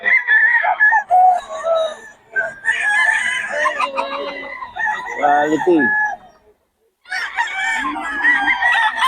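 Several roosters crow loudly and repeatedly nearby, with clucking between calls and someone speaking briefly.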